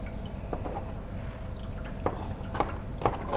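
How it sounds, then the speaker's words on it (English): Water draining from washed gluten dough while making Tibetan laphing, a few distinct drips and small splashes over a low background murmur, close by and fairly quiet. "We drain all the water."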